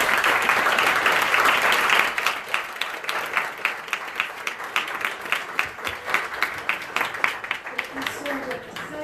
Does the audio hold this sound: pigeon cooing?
no